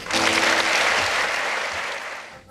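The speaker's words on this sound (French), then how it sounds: "je vous demande quand même de l'applaudir" A festival audience bursts into applause, a loud, dense burst of clapping from a full hall that holds steady and then gradually fades over a couple of seconds.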